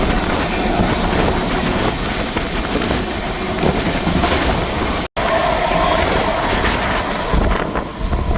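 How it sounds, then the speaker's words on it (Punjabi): A loud, steady roar of the Haridwar–Amritsar Jan Shatabdi Express passenger train running, mixed with heavy wind rumble, continuous throughout with a brief dropout in the middle. "ਇਹ ਹੈ ਹਰਦੁਆਰ ਅੰਮ੍ਰਿਤਸਰ ਜਨ ਸ਼ਤਾਬਦੀ ਐਕਸਪ੍ਰੈਸ ਹੈ ਜੀ"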